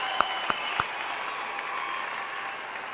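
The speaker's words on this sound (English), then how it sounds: "Scream loud. Clap. Scream loud." A university commencement crowd claps and cheers in a steady, dense wash of applause, with a few sharp louder bursts near the start that may be shouts.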